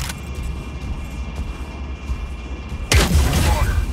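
Fragment guns firing in the Mecharena video game, a sudden loud burst of booming impacts after a low rumbling background, continuing as a dense noisy barrage.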